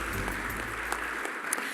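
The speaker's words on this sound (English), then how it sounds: "Applause, please." Audience applause at the ACSA Feather Awards 2017 ceremony at O R Tambo, a steady wash of clapping from a hall crowd, moderately loud and continuous, fading slightly toward the end.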